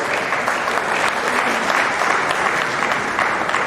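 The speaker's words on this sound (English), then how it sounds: "Let's give him a round of applause." An audience at a memorial lecture gives steady, dense applause throughout, a continuous wash of clapping from many hands without any talk over it.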